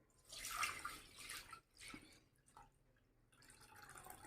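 Wash water is poured off churned butter into another vessel, a faint splashing trickle in two short bursts and then a softer dribble, quiet and close with no talking.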